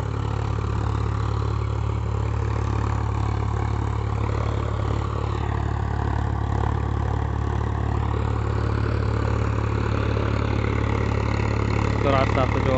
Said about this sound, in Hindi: क्या शानदार आवाज़ है इसकी, ज़बरदस्त शानदार इंजन आवाज़।